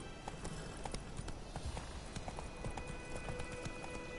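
Horse hooves clip-clopping at a steady run in The Witcher 3, a brisk continuous rhythm of hoof falls heard close over a busy outdoor ambience, with no voice over it.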